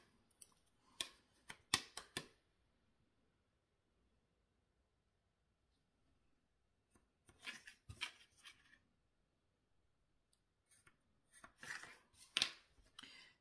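Scissors cutting paper for a pop-up card in three separate bursts of crisp snipping clicks, quiet and close, with near silence between the bursts.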